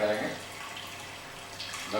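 Water poured into a cooking pot for Hyderabadi mutton haleem, a steady splashing stream that starts loud, settles into a softer continuous flow and swells again near the end.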